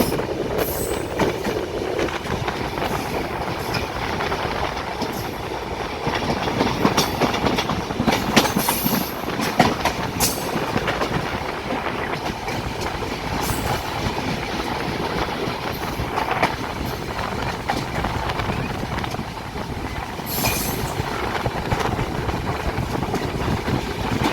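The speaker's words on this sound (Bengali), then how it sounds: "বাংলাদেশের বৃহত্তম রেলওয়ে জংশন ঈশ্বরদী জংশনে প্রবেশ করছে ঢাকা অভিমুখী চিত্রা এক্সপ্রেস" Dhaka-bound Chitra Express rolling into Ishwardi Junction, Bangladesh's largest rail junction, with steady rumble and clickety-clack of wheels over the track, occasional squeals, loud and continuous throughout.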